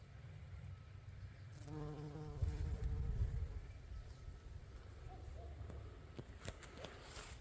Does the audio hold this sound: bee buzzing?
yes